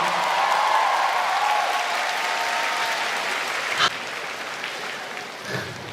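Audience applause at a live Hong Kong music show: steady, dense clapping from a crowd that gradually tapers slightly, with no talk.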